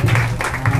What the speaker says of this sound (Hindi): चलिए जोरदार ताली हो जाए।